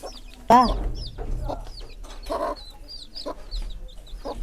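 A hen clucks in short, repeated bursts close by, while thin high chick peeps chirp around her.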